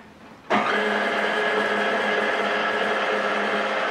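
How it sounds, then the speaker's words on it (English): An electric mixer creams softened butter with a cup of sugar, kicking on abruptly after a half-second pause and then holding a steady, close, continuous whir with a faint tonal hum and no talk. "I'm going to get that starting to blend on the mixer"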